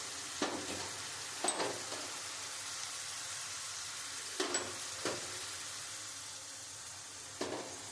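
Chicken curry with spices fries in a pan with a soft, steady sizzle, broken by several brief scraping clatters as it is stirred.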